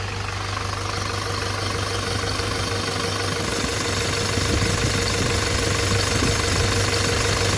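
An Isuzu NPR dump truck's 4HG1 diesel engine, non-turbo and rated at 120 hp, runs at a steady idle with a dense, constant rumble and knocking clatter, close and unbroken throughout.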